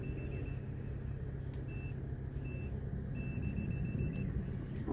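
A voltage tester lights up and beeps on a live line while a well pump's pressure switch is being serviced. It gives a steady, repeated high electronic tone in short bursts over a constant low pump or motor hum.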